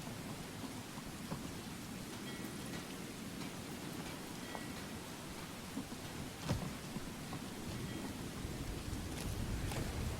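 Steady rain falls in the open-world fantasy game Skyrim, a dense, even wash of drops with a brief louder rumble near the middle, heard alone with no talking.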